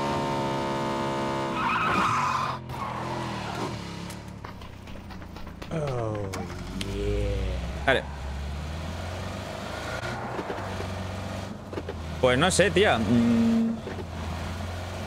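A car drives in PUBG, its engine droning and shifting pitch with tire skids as it moves, while two players talk casually over it throughout.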